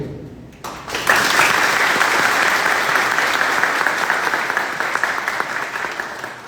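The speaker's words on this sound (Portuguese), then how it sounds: "uma salva de palmas para meu amigo" Applause from an audience welcoming a historian and researcher at a Brazilian talk on payroll loans for INSS retirees, starting after a brief pause and sustained as dense, steady clapping for several seconds.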